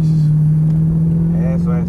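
An Audi R8 sports car on a track in Cancun drones with a steady, loud engine hum that holds level throughout, while people talk over it.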